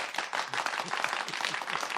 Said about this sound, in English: One more time, a rousing round of applause for them